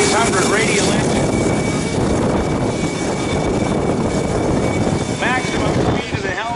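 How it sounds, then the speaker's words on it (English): An SB2C Helldiver with a 1900 horsepower Wright R2600 radial engine roars past at an open house air show. The loud, rough propeller drone holds throughout with a slight rise and fall, while a commentator talks over it. "Powered by a 1900 horsepower Wright R2600 radial engine."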